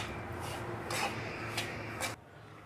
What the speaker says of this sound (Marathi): सतत ह्याला परतत राहायचं आहे